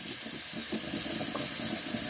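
Warm water runs steadily from a tap for washing hair, producing a continuous, even hiss that stays close and fairly loud for the whole stretch.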